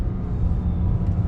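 A BMW N54 Alpina with an automatic transmission, driven in manual shift mode, gives a steady low engine and road rumble close by, with no talking.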